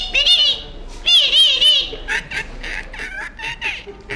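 A man mimics a parrot with his voice: shrill, warbling squawks in two close bursts, followed by a quicker run of chattering chirps, loud and near.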